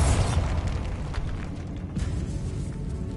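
A Bombarda spell explosion in Hogwarts Legacy set off in a decaying catacomb: a loud, low boom at the start, then a rumbling, crumbling tail that fades slowly.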